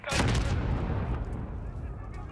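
A missile strike in Call of Duty: Modern Warfare lands as a sharp close blast that swells into a deep rumbling roar and slowly fades over two seconds.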